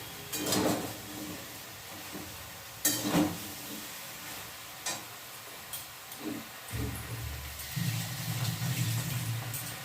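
Spices fry in a pan while a spoon stirs them, sharp scraping strokes recurring every couple of seconds over a soft hiss and sizzle that grows steadier toward the end. No one speaks.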